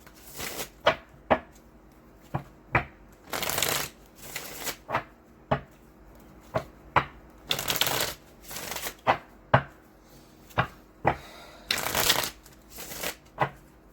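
Tarot cards being shuffled by hand: a close, dry series of short riffling flicks broken up by several longer, fuller shuffling bursts, steady and alone with no talking.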